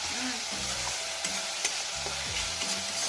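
Fish frying in a pan, a steady close sizzle of hot oil with brief stirring clatters throughout, no voices.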